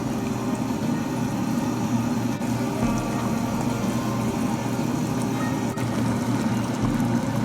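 Thinly sliced pork curry comes to a boil in a pot on the stove, giving a steady, dense rushing bubble that holds even and fairly loud throughout with no talk over it.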